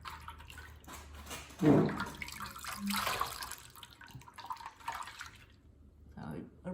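Tap water splashes and drips at a bathroom sink as a face is rinsed after makeup removal, fairly close, with a brief louder splash and talking throughout.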